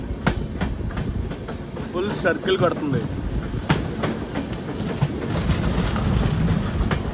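A passenger train from Gudur to Varanasi rumbles along the tracks with steady clickety-clack and broadband rolling noise, loud and close, while a voice talks over it.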